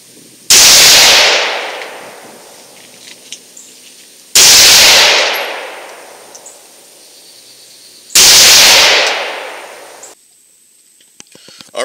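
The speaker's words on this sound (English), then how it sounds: "we're going to shoot this at 100 yards with some iron sights" Three loud Double D Armory SST 5.56 rifle shots, fired with iron sights at a 100-yard range, each a sharp blast with a long decaying echo, spaced about four seconds apart.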